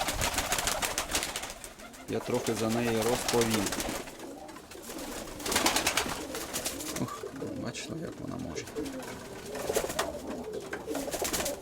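Pigeons coo softly in repeated throaty bursts while a person talks over them nearby.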